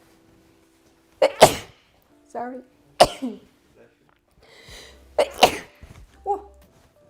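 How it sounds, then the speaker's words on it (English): Three loud sneezes in a row at close range, each sharp and explosive, separated by short breaths and a throat-clearing cough, with a brief spoken apology afterward. "Oh, I have to sneeze."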